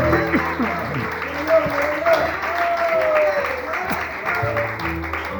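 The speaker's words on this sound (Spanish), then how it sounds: "Dale aplauso al Señor" A church congregation applauds after a sermon, a continuous wash of clapping with voices speaking and calling out over it.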